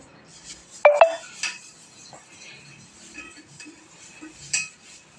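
A copper pot being handled and cleaned, with a few sharp metallic clinks and taps early on followed by softer intermittent knocks and scrapes, close and fairly quiet.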